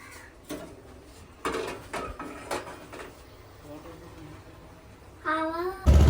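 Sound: stirring Horlicks drink with a spoon in a cup

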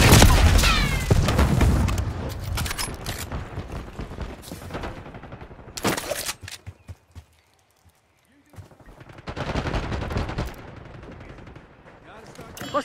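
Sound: gunfire in the video game Black Ops 6

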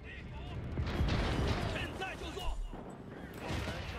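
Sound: gunfire and artillery shots in Age of Empires 4 video game

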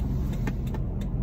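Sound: car interior while driving

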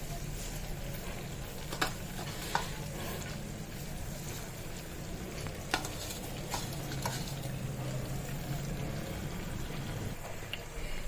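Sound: leaves added to hot herbal hair oil sizzling

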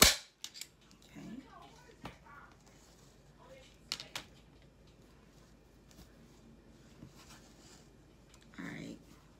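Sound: staple gun stapling fabric on a storage bench

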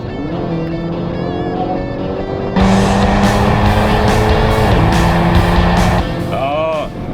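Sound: Hyundai N car accelerating at full throttle with launch boost

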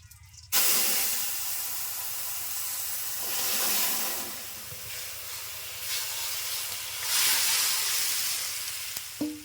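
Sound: fish broth poured into hot pan, sizzling

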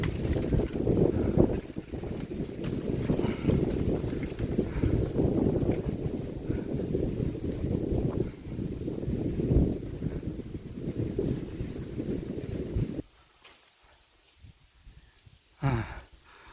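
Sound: wind blowing while flying a kite

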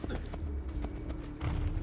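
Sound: horse hooves from the video game Assassin's Creed 2

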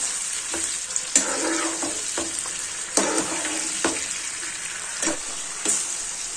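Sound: red chilies sautéing in oil on medium flame

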